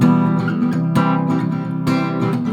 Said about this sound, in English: You kind of want to palm mute it, so you lay like the palm of your hand on the bridge.